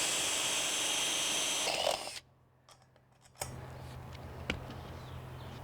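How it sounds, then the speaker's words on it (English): A power drill drilling a hole for a solar panel mount on a camper whirs steadily at close range, stops briefly into near silence, then resumes with a lower grinding hum. "now I'm gonna drill a hole for this other mount"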